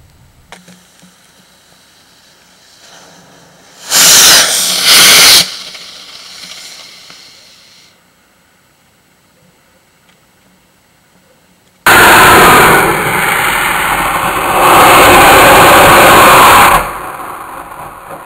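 Two size 4 model rocket motors fire on a model hot rod truck: a short, loud roaring hiss erupts, falls silent, then a longer, harsh burst roars for several seconds before cutting off.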